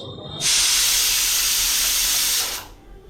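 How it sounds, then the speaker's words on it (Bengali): A pressure cooker cooking lentils lets out one loud, steady burst of hissing steam lasting about two seconds, starting abruptly and fading at the end, with no talk over it. "দেখো ডাল প্রেশার কুকারের অবস্থা কী হয়েছে আমার"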